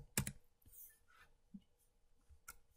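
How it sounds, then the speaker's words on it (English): A command typed on a computer keyboard in a Python terminal session, with a few sharp key clicks at the start and faint scattered taps after, quiet and close, with no talking. "If I just type Python here,"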